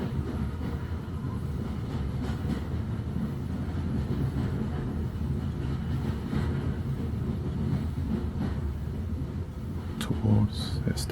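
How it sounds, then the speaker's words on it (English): A steam train chugging along steadily, heard as a soft, low, continuous rumble with faint clattering that stays even throughout. "As you listen to the Hogwarts Express puff and chuff"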